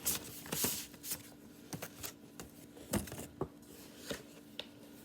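A greeting card rustles and flaps as it is handled up close, with crisp paper crackles and soft taps in an uneven rhythm.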